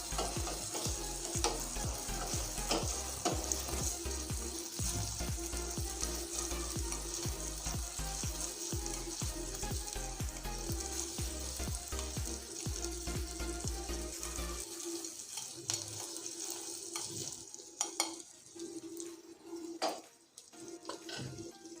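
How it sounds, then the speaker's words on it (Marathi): Spices tempering in hot oil for sol kadhi, with chillies crackling and frying in a dense, steady sizzle, stirred now and then, close up for about fifteen seconds before quieting to light clatter. No one speaks. "थोडीशी तडतडी आली"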